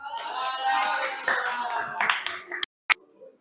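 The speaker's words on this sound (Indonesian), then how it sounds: "tepuk tangan buat kelompok tadi yang terakhir maju" Classroom applause for the last student group to present, a short burst of clapping from a small group under a teacher's voice, thinning into a few scattered claps before stopping.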